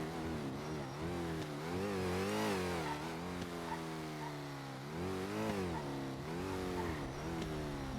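A car engine in GTA V roleplay revs repeatedly, rising and falling in pitch through several gears as it accelerates, loud and continuous, with no talk over it.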